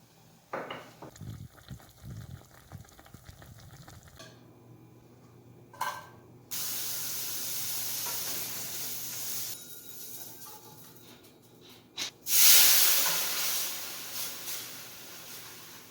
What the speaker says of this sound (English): The water's at a boil now, so I'm going to turn the heat down to medium-low and cover again